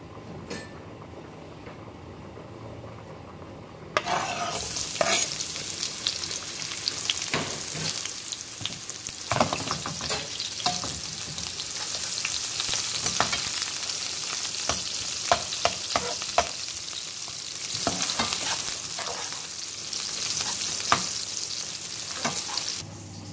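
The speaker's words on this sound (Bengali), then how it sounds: "এখন আমরা পেঁয়াজ রসুন আর ওই মরিচটা দিয়ে দিব হালকা করে আমরা ভাজবো" Onion, garlic and chili frying in a pan for an octopus pasta sauce: a quiet start, then a sudden loud sizzle that holds steady with repeated clicks and scrapes of stirring.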